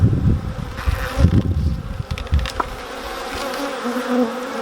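Honey bees buzz loudly and continuously around an open beehive during a UK hive inspection, a dense close-up drone of many insects with no talking.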